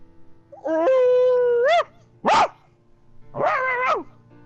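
Pet dogs howl and whine in a quiet room: a long wavering howl, a short sharp yelp, then another rising and falling cry, each loud, close and separated by brief pauses.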